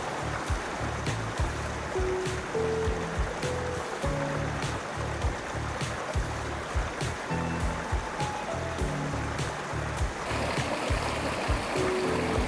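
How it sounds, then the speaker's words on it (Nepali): Stream water rushes near Jhyampal Falls in a cold forested valley, a steady broadband roar of flowing water close by, with low rumbling thumps and faint intermittent tones underneath. "यो पानीको साउन्डले चाहिँ एकदम सुदिङ भाइब्स दिने क्या,"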